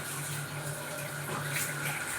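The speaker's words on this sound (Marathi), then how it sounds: "आता इथे हे बघा प्यायचं नळाला पाणी येते माझ्या इथे." Drinking water runs steadily from a kitchen tap in a home, a continuous low splashing flow that stays even throughout, with no talking.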